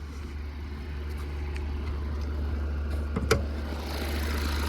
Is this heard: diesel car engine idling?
yes